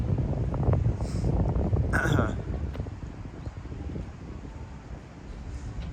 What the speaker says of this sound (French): Dommage qu'il y ait du vent